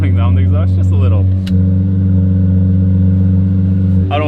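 Lamborghini exhaust droning at a steady low pitch while driving, following at a distance behind other cars; a voice talks over the first second and again at the end.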